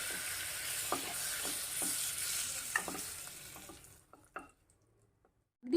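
Oil and a spoonful of butter sizzle in a pressure cooker, a close steady frying hiss with a few light clinks of stirring, fading to near silence at the end.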